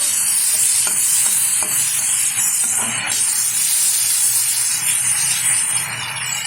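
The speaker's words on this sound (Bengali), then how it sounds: "এখন এই তেলে দিয়ে দেবো কিছুটা পরিমাণে একটু চিনি, দিয়ে দিচ্ছি কেটে রাখা একটা টমেটো। একটু নেড়ে চেড়ে নেব।" Chopped tomato and a little sugar fry in hot oil in a home kitchen pan, a continuous loud sizzle and hiss with irregular stirring scrapes and clinks throughout.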